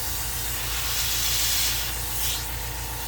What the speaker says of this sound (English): I'm going to do a little spot welding right here